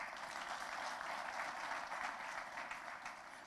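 A political party crowd claps for President Museveni, with a continuous wash of applause from many hands, steady and somewhat distant, lasting a few seconds.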